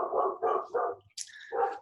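A dog barks three times in quick succession at close range, followed by a high whining yelp and one more bark, at a community gathering where traditional fire knowledge is being revived.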